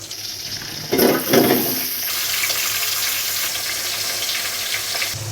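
Fish frying in oil in a pan as it is flipped, a couple of loud splashing sizzles giving way to a steady, moderately loud hiss and crackle with no talking.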